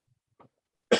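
A single sharp cough bursts out at close range after a faint earlier rasp, loud and short against near silence.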